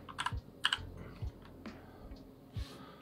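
A motherboard BIOS search typed on a computer keyboard: a few quick, close key clicks and taps spread over a few seconds against a faint background hiss.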